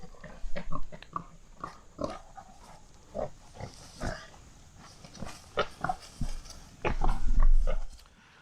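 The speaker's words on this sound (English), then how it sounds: "rooting around for bugs and nuts and grubs and worms and all that stuff that pigs look" Pigs rooting around on pasture at a new farm, grunting and snuffling close by in irregular bursts, with rustling and one longer, louder stretch near the end, and no talk.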